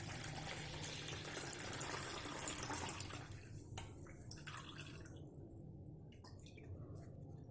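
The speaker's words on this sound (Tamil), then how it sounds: "தண்ணியில் கரைச்ச இந்த நாட்டு சக்கரையை நம்ம நல்லா வடிகட்டிடுவோம்." Dissolved palm jaggery water, a native sugar solution, is strained in a home kitchen, giving a soft, steady trickle and pour for a few seconds that thins into faint drips and quiet gaps.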